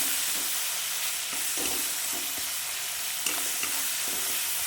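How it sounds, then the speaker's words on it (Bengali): Tomato and turmeric being stirred in hot oil in a pan, a steady crackling sizzle with repeated scraping strokes of the spatula, close and fairly loud. "একটু হলুদ দিয়ে ভালো করে নেড়ে নিয়ে"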